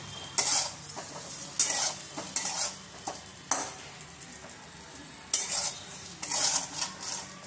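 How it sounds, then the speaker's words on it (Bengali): Baby potatoes frying in oil with salt, a low sizzle under repeated scraping stirs of a spatula against the pan, coming in bursts with short pauses, close and moderately quiet. "আলুগুলোকে আমি লাল লাল করে ভেজে নেব"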